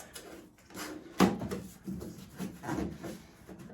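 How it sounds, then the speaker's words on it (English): A rubber gasket is slid back into the fan housing of a noisy central heating boiler during a fan replacement. Close, dry rubbing and scraping runs throughout, with one sharper knock near the middle and no talking. "now we can get this gasket back in again, which is just a case of sliding that back across and making sure it goes in the gap"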